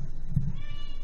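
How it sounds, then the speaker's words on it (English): A cat meows once, short and fairly close, over a low steady background hum, with no one talking. "I'd like you to pet the cat more."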